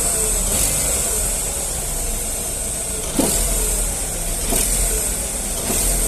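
Engine of a 2009 Opel Astra runs steadily up close, a continuous mechanical drone with a faint high whine and a few soft clicks and knocks mixed in.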